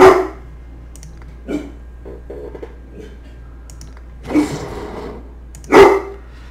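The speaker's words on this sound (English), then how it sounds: "The dogs are going crazy." Dogs bark at someone at the door in a few scattered bursts, one near the start and louder ones toward the end, with quieter gaps between and no talking.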